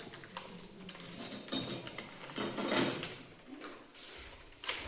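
Scissors cutting a rectangular sheet of paper, giving a few crisp, rustling snips and crunches at close range that rise and fall over a few seconds, with no talking.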